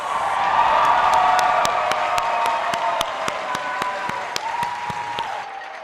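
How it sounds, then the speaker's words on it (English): Audience at a city awards closing ceremony applauding steadily, dense clapping from a large indoor crowd with a few loud individual claps standing out, sustained for several seconds and slowly tapering. "Can we all give them a round of applause?"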